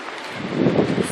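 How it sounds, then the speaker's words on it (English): Wind gusting steadily into the microphone on a hillside in Pisac, Peru, a rough low rumble that swells louder toward the end, with no voices. "It's awfully windy"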